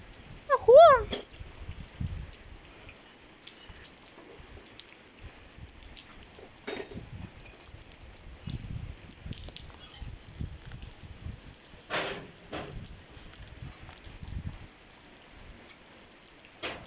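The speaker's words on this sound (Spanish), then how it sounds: "Nos agarró la lluvia en pleno rancho." Rain falls on an open ranch, a steady, soft patter and hiss with a few louder gusts of drops, while a brief voice calls out near the start.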